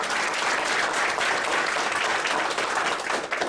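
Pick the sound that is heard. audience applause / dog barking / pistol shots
audience applause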